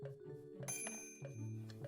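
A bell being pushed in the point-and-click adventure game Day of the Tentacle gives a single bright metallic ring partway through, over a steady game soundtrack.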